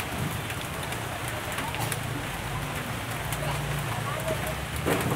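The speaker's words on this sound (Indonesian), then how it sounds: "Suasana menjadi hujan ya." Steady rain falls over a traditional village market in Indonesia, a continuous hiss of drops on surfaces with a low rumble beneath, lasting throughout.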